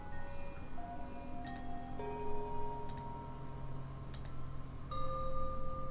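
Bell hanging from a tree in the video game Sisyphus Reborn, made of shiny opaque material, struck several times with clear ringing tones that sustain and overlap over a soft ambient drone.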